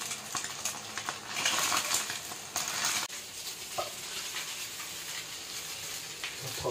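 A spatula breaks up cooked rice stir-frying in a wok, giving a steady run of scraping and clattering with a light sizzle underneath, busier in the first few seconds, with no talking.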